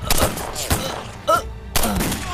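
Sharp, loud gunshots in a TV drama firefight, several separate close reports spaced a fraction of a second apart, each with a short echoing tail.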